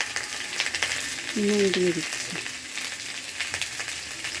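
Potatoes frying in oil with salt and turmeric added, a steady sizzle heard close with brief stirring scrapes and a short spoken phrase over it.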